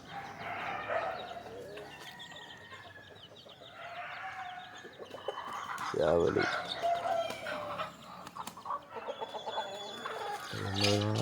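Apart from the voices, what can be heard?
chickens clucking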